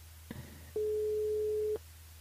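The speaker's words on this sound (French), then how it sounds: "On rappelle Cynthia ce soir." During a French radio call-in show, a telephone rings out to a listener: one long, steady ringback tone lasting about a second, preceded by a faint click, over a low line hum.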